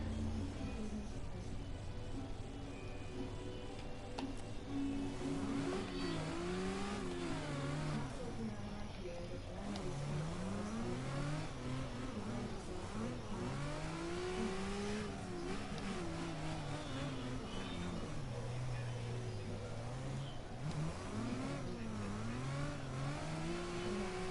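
Engine of a chrome Subaru BRZ in CarX Drift Racing Online revs and sweeps up and down in continuous waves, rising and falling in pitch over a steady drone of background noise.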